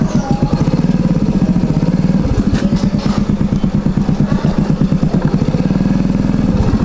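A motorcycle engine runs steadily nearby, a loud, rapid, continuous putter of evenly spaced firing pulses with slight shifts in pitch, heard alone without talk.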